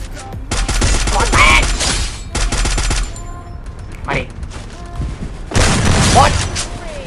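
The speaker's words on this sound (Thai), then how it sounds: "ยิงเข้าหัวสองสามเม็ดนะ" Loud gunfire in the shooter game Free Fire: dense bursts of automatic fire and booming shots, with a brief lull partway through before another heavy volley.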